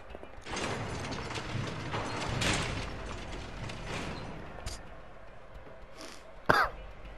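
A wrench ratchets in the video game A Way Out: faint, quiet mechanical clicking and grinding over several seconds, ending in a short sharper clack.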